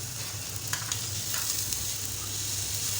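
Sliced onion sizzling in a frying pan for a chicken cheese sandwich filling, a close, steady hiss with a few brief stirring scrapes.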